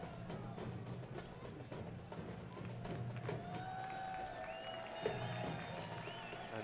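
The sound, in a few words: stadium crowd applauding a ball boy at a soccer match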